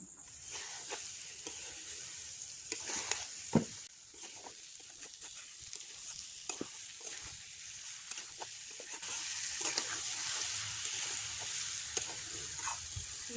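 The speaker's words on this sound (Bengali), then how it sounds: "এবারে আমি সবসময় একটু নাড়তে থাকবো" Raw mango pieces cooking down with sugar for a sweet-sour jelly pickle, stirred in the pan with soft intermittent scrapes and taps over a low, steady background hiss, with no talking.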